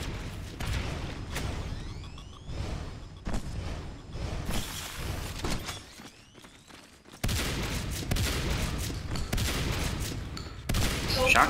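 Repeated shotgun blasts from marines in Natural Selection 2 multiplayer, loud sharp reports scattered through busy combat noise, with game effects, whooshes and a brief quieter lull midway.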